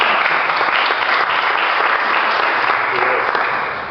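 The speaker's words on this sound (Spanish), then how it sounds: "Un aplauso para..." An audience applauds at an InsurTech round-table panel event. The clapping is loud, close and sustained, forming an even wash that fades slightly at the very end.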